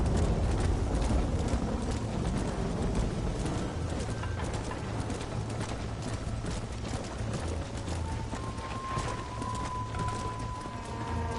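Horse hooves clip-clop at a gallop in the Red Dead Redemption video game, a steady rhythmic drumming of many quick beats running throughout, close and fairly loud, with faint bird coos in the background.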